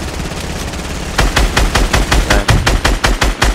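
Rapid, loud gunfire bursts in a shooter video game, a run of sharp repeated shots after a brief quieter lead-in, with a player's short voice nearby.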